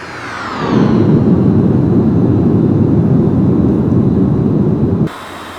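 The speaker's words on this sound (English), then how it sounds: "it's the Boeing 720. Which is a variation of the 707." Jet engines of a Boeing 720 airliner, a variant of the 707, swell into a loud, steady roar that holds for several seconds before cutting off abruptly, with no voices.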